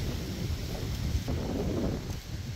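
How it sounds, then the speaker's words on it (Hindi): Strong wind blowing outdoors in hilly country with light drizzle, a dense, continuous low roar and rush buffeting close to the microphone, with no talk. "बाहर पे तो तेज तेज हवाएं चल रही हैं, बूंदाबांदी हो रही है"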